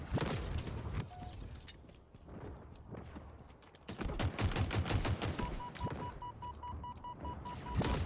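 Rapid bursts of video game gunfire, dense and loud, rattle in quick volleys with footstep-like clatter, heard without speech.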